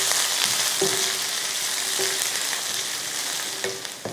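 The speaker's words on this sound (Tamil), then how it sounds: "வெங்காயத்தை வதக்கிக்கலாம்." Chopped large onion sautéing with curry leaves in hot oil for chicken fried rice, a steady close sizzle with a few soft stirring clinks of a spatula against the pan.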